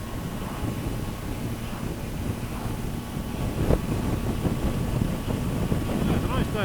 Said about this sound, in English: The wind's up at about 30 miles per hour.